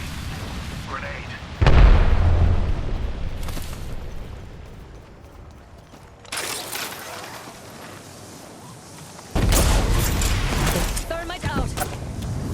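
A grenade exploding in Apex Legends amid a firefight, with three separate loud, booming bursts spread across the stretch, each trailing off into rumble, while voices talk in between.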